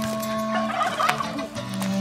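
Turkeys gobble on a farm in Pimientacocha, Pucallpa, Peru, giving nearby rapid warbling bursts with a steady hum and other outdoor noise underneath and no talking.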